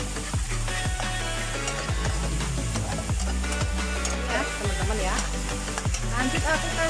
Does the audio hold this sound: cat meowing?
no